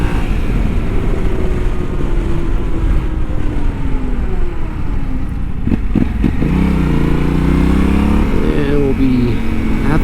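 Yamaha Tenere 700 motorcycle ridden on road and off-road, a loud steady engine drone with rising and falling revs and gear changes, wind rush throughout, no speech.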